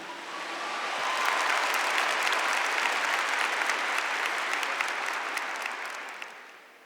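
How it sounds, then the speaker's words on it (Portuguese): Women in a congregation clap during a Catholic sermon, a dense wash of applause that swells over the first second, holds steady and then tapers off toward the end, with no talking over it. "Pode aplaudir Maria Madalena."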